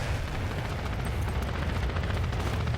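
Grenade explosions in a competitive video game match, a dense, continuous booming rumble with scattered sharp cracks that fills the whole stretch at steady loudness without a break.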